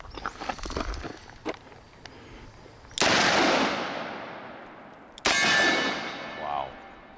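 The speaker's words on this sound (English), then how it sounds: "single action versus double action revolver here" An S&W Model 629 5-inch Classic and a Magnum Research BFR revolver fired outdoors, two loud, sharp magnum shots a few seconds apart, each with a long echoing tail, after some quieter clatter.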